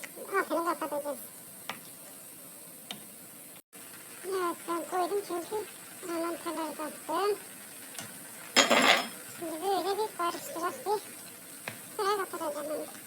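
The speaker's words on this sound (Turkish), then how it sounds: "Şöyle bir yıvalayalım, şöyle bir karıştıralım." Utensil scraping and clinking against a pan in repeated strokes as food is stirred, with a voice talking over most of it and a louder clatter near the middle.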